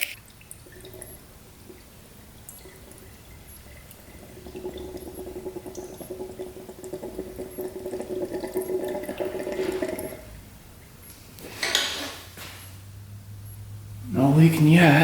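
Coolant poured into the radiator of a two-stroke dirt bike, a steady trickling pour building over several seconds, then pausing, with louder splashy bursts near the end and some talk in the background.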